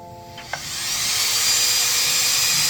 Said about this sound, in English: You can tell that the composite fan is spinning at a slightly higher RPM and it is moving more air.